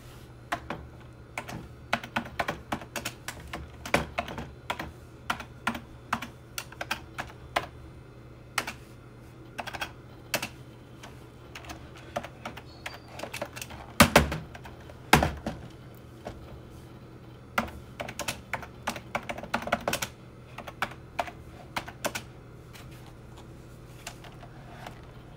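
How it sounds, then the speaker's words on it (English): Steady typing on a computer keyboard, dense bursts of close, crisp key clicks with brief pauses between them and a couple of louder thumps, with no voices over it. "we're going to type something now"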